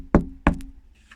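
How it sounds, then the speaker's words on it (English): Two firm knocks on a door sound close and sharp in quick succession, followed by a faint short tail. "he knocked on the door"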